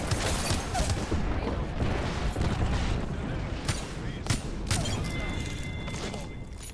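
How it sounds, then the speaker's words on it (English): In a shooter video game, an airstrike lands with heavy booms and crashes mixed with bursts of gunfire, loud and dense throughout, with a player's voice talking over it. "Heads up, we got an airstrike on us."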